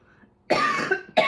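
Two harsh coughs, close up: a longer rasping burst followed after a short pause by a second, sharper one.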